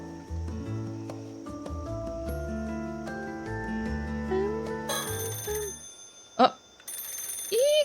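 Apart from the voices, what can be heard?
telephone ringing in the video game Paranormasight: The Mermaid's Curse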